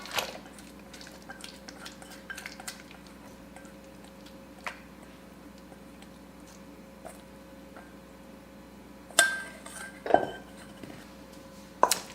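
An onion mix is stirred into whisked eggs in a bowl for a German onion cake, with soft scraping and light ticking clinks of a utensil against the bowl, then a few louder knocks near the end.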